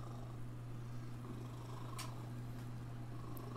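A domestic cat purrs steadily and quietly at close range, a low continuous rumble with no voices, while it sits on a person during a gaming session.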